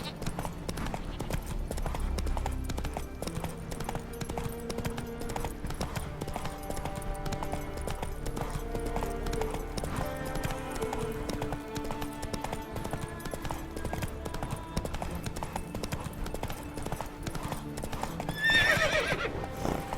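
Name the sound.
horse Roach trotting and neighing in The Witcher 3 video game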